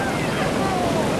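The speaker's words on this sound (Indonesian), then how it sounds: "Kena ombak." Ocean waves surge and wash on the Bali coast, a steady broadband rush with wind buffeting the microphone, close and loud for a brief moment.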